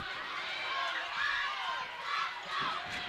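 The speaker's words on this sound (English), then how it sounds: "A round of applause from the Assumption faithful here tonight" Fans at a 2025 WIAA girls basketball sectional semifinal, Pacelli vs Assumption, cheer and applaud as a crowd in a gym, a steady loud roar with shouts and rising swells throughout.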